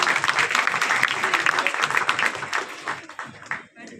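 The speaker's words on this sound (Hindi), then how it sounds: "एक बार जोरदार तालियां दीजिए।" Audience applause at a poetry gathering in Chaibasa, a dense, steady clapping from a crowd filling the room, thinning slightly toward the end.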